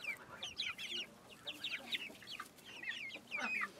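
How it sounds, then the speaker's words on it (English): Young Lavender Splash grow-out chickens, three roosters and a hen, cluck and chirp in a scattered run of short calls, fairly close and without talk. "Three roosters and the one hen."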